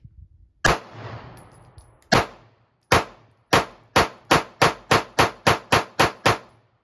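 An IWI Masada Slim handgun fires live rounds outdoors: one sharp crack, a pause, three spaced shots, then a rapid string of about nine loud, evenly spaced reports, each ringing out briefly.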